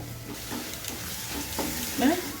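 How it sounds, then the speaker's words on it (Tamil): Onions sauté in a hot pan for urad dal adai batter, sizzling steadily with repeated scraping stirs close by. "இது கொஞ்சம் வெங்காயம் வதங்குறதுக்கு டைம் எடுக்கும், அதனால் ஒரு 5 நிமிஷம்"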